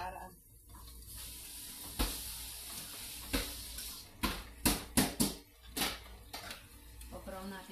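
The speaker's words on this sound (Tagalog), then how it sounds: "Pag-brown natin yung bawang." Garlic frying in a pan gives a steady sizzle under sharp clanks of a utensil against the cookware, with several loud knocks clustered in the middle and people talking nearby.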